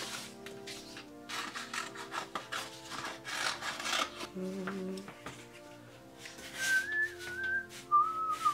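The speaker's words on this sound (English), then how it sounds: "I'm so sorry I'm whistling" A person whistles a few short, wavering notes over ongoing rasping and scraping sounds.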